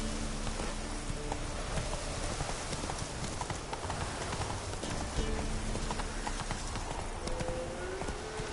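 Hooves of the horse Roach gallop in a video game, a steady, continuous clip-clop close by that runs throughout under a busy ambient background, with no talk.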